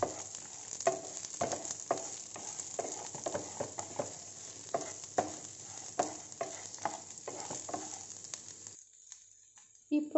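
Garlic, ginger and coconut sauté in a pan for guava chutney: a soft, steady sizzle broken by repeated scraping strokes of a spoon. The sizzle cuts off abruptly near the end.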